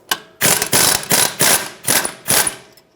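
A ratchet wrench loosens strut-to-knuckle bolts on a 2013-2018 Hyundai Santa Fe, with six or so sharp, close clicking bursts in quick rhythm and no talk.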